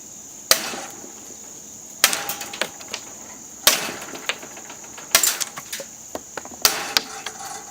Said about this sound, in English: This is a thicker piece of PCV pipe,